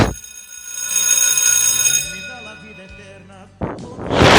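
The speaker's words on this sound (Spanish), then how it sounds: "Suena la campana" A bell is struck to open an evening religious study program, ringing out with a bright metallic clang that decays over about three seconds before another strike cuts in.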